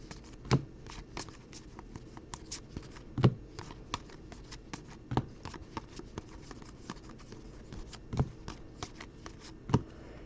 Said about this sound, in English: Is Jalen Horde is coming out right there where we cut the deck